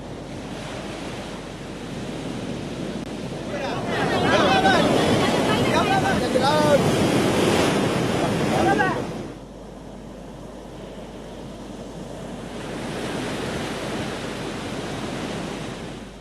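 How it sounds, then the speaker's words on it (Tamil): Sea waves crash against the shore at Chennai's Pattinapakkam, where surges reach house doorsteps; loud rushing surf swells into a long roaring break, then drops to a softer wash with wind noise, with no talking. "வீட்டு வாசல் வரை வந்து மோதும் அலைகளால்"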